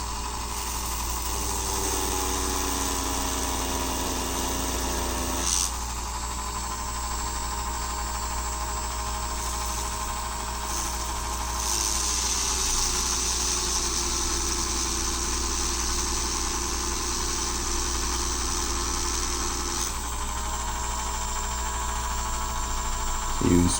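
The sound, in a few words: Dremel rotary tool at lowest speed grinding wheels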